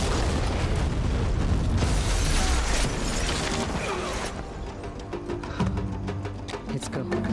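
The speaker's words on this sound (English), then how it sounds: "That explosion was made by our people on the inside." A heavy explosion in an action film about a coordinated worldwide terror attack and a US special forces response rumbles loud and broad for several seconds, then gives way to quieter debris and clatter while voices speak over it.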